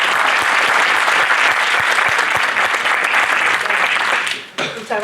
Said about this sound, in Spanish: Muchas gracias por el aplauso al principio